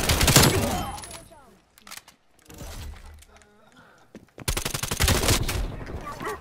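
Shotgun blasts and heavy gunfire in Call of Duty: Black Ops Cold War, a loud burst at the start, quieter scattered shots mid-way, then another sustained loud volley near the end.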